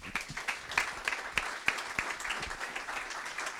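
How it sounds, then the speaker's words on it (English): Audience applause for the host at a Station F launch event: a quiet, somewhat distant patter of clapping, with a few sharper claps standing out, continuing steadily throughout. "Big round of applause, please."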